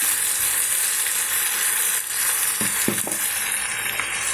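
Spinach frying in a pan with turmeric and chili powder, a steady close sizzle throughout with a few soft scraping stirs near the end.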